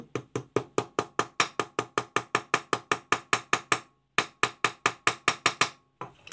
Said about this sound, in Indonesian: setelahnya pukul dulu dengan maaf kita kami menggunakan palu